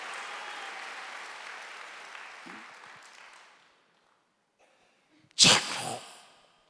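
A Korean church congregation claps steadily as a broad crowd sound that fades out over a few seconds, followed by a pause and then a sudden sharp, loud sneeze-like burst nearby.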